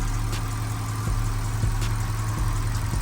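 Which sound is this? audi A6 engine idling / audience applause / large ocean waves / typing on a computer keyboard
audi A6 engine idling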